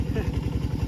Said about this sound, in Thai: โอ้รถอีตอกมาพอดีพี่น้อง